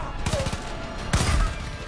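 Gunfire in the shooter video game Far Cry 5, two sharp bursts of rapid shots about a second apart, loud and close over a low rumble, with a faint voice underneath.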